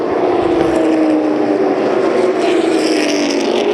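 Super late model race cars roar around an oval track side by side, a loud continuous engine drone that swells and shifts slightly as they pass.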